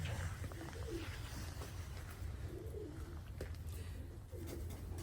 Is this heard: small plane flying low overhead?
no